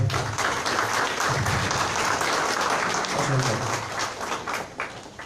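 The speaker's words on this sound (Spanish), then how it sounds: "un aplauso al doctor Peña Cabrera que se está integrando, por favor" Seminar audience at a criminal law event applauds Dr. Peña Cabrera, dense clapping that holds steady then thins and tapers toward the end, with a low voice murmuring underneath.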